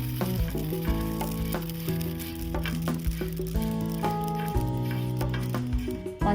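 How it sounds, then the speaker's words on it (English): Amaranth seeds dry roasting in a hot pan over medium heat while being stirred continuously, a steady crackling sizzle with scraping strokes, close and constant throughout with harmonic tones running underneath. "dry roast the amaranth seeds over medium heat until they puff and turn a light golden color."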